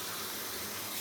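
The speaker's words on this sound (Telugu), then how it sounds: "ఇది ఇలా కుక్ అవ్వాలంటే మనం ఒక గ్లాసు వాటర్ దీని మీద ఇలా వేసుకుని" A glass of water poured onto a hot pan of egg fried rice makes a brief, soft gushing hiss, faint and close, with no voices.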